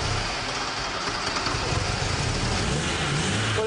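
A Porsche engine starting after long disuse and running at a steady idle, a low rumbling throb that stays even and close throughout, with no voices.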